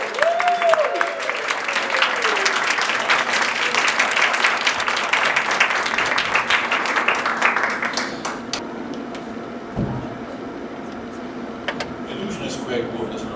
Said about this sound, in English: Jump to their feet and clap for a girl named Callie who made the table float.